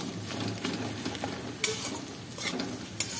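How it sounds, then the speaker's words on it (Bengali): Potatoes are tossed and fried in a wok, making a continuous sizzle broken by scraping strokes and a couple of sharp clinks of the spatula against the metal. "কড়ার মধ্যেই এটাকে উলট পালট করে এরকম ভাজা ভাজা করতে হবে"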